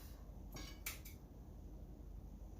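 A few quick knife strokes cut food in half on a board, like slicing pizza, with short bright scraping clicks clustered in the middle over a quiet kitchen background.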